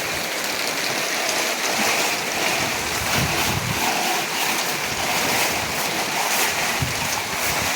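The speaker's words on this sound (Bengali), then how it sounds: "দেখো কত বৃষ্টি হচ্ছে" Heavy rain pours steadily over a construction site covered with tarpaulin, with a dense, continuous broadband hiss of falling water and drumming close by, with no talking.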